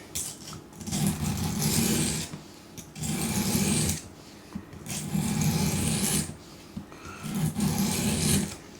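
A knife is sharpened on an Apex Edge Pro sharpener in rhythmic, rasping strokes, about eight passes with brief gaps between them, close and fairly loud.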